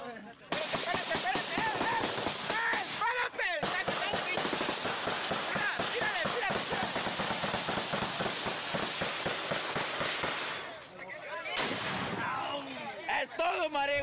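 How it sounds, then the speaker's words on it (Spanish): Sustained, dense bursts of automatic gunfire from a Barrett M82 rifle fired from an armored pickup during a cartel shootout in Reynosa, a loud continuous rattle lasting most of the stretch with brief dips near the end. "se ve a un hombre fuertemente armado disparando con una Barrett M82 desde una camioneta blindada de manera artesanal"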